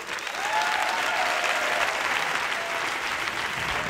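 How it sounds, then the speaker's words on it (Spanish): Steady, dense applause from a comedy club audience greets a comedian walking on stage, a broad wash of clapping that holds at full strength for several seconds with no voices over it. "fuerte aplauso para Raúl Pérez"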